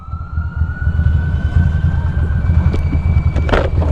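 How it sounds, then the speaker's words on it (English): A steady, high ambulance siren tone holds above heavy rainy night traffic and road rumble while the ambulance passes close by. "I think that ambulance is about to pass by me"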